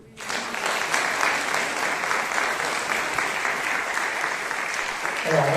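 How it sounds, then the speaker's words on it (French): Sustained applause from a theatre audience after a show, a dense, even wash of many hands clapping at steady loudness throughout, close and filling the room. "Je pense qu'on peut les applaudir."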